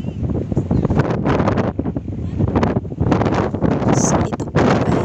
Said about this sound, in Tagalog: So ito po ay tanghaling tapat pero napakalakas po ng hangin dito sa Altamonte.